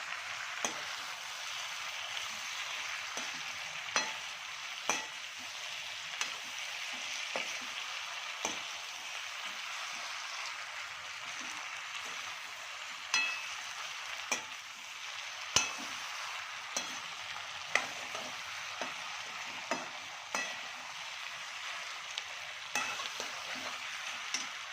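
Dry chilli chicken stir-fried in a pan with no water added, finished with coriander leaves: a steady, bright sizzle runs throughout, punctuated by regular sharp scrapes and taps of the spatula, with no talking.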